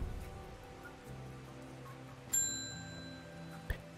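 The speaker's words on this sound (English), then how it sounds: "I didn't mean to ring the bell again" A bright bell rings once inside the herbal-shop game Strange Horticulture and lingers with a clean ringing tone, then a second short tap follows over soft background music.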